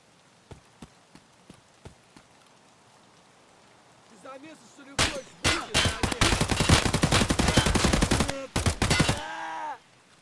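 Full-auto gunfire in Escape From Tarkov starts with a few scattered single shots, then dense rapid bursts hammer loud and close for several seconds before cutting off.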